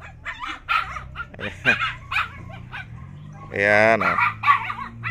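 A puppy yips and whines in short high bursts, with one longer whimpering cry, while a person talks nearby at a plant shop.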